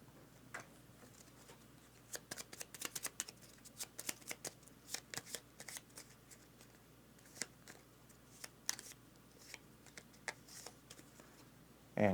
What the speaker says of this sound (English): I need to shuffle up their decks.